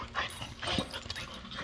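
A dog whimpers and yips in short, uneven bursts at close range, the whines rising and falling over a busy indoor household background with no clear talk.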